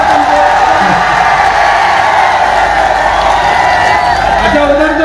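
An audience at a mushaira poetry gathering applauds in a steady, continuous wash of clapping and crowd noise, with a voice faintly audible underneath.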